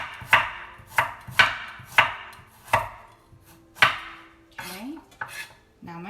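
A knife slices through a carrot on a cutting board with diagonal cuts, giving about seven crisp, evenly spaced chops up close, followed by a few softer scraping sounds as the slices are moved.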